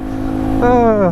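An MZ TS125 motorcycle engine labours in third gear up a hill, a steady low drone with a voice briefly over it.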